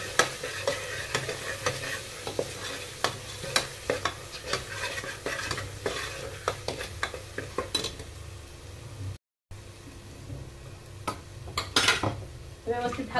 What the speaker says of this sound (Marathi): आता व्यवस्थित सगळं हलवून घ्यायचंय.